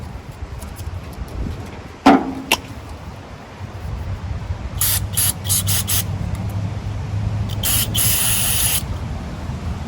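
Several short hissing bursts of aerosol spray on a 1968 Sears Suburban tractor, two groups of quick sprays after a faint knock, over a low background rumble.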